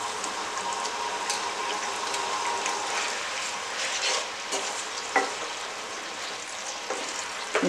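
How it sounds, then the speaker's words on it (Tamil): A pan of thick Tamil kuzhambu curry bubbles and sizzles steadily up close, with occasional soft pops and clinks throughout. "இப்போ இது வந்து கொதிக்கட்டும்."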